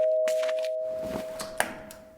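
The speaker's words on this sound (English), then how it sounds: "the doorbell rang" A doorbell rings with a single sustained chime that slowly fades, accompanied by a few faint clicks and taps nearby.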